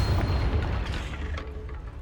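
Confringo fire spell blasting in Hogwarts Legacy: a dense, low booming burst that rumbles continuously for about two seconds, loud and close, with no talking over it.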